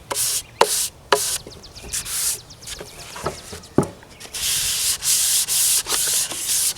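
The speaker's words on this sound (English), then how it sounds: "A little bit of hand sanding." Hand sanding a stained wooden step stool between finish coats: uneven scraping strokes, some short and some long, close up, with a few light knocks between passes.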